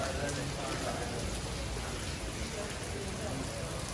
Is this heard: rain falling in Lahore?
yes